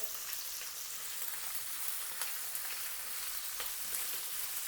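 Onion, capsicum, beans and carrot being stir-fried in a pan for a Hyderabadi green vegetable biryani, a steady close sizzle with faint scraping stirs throughout.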